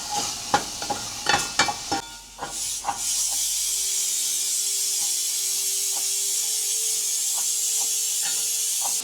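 Spoon stirring chickpea curry masala with spices in a hot pan, a few scraping knocks followed by a steady close sizzle and hiss of frying.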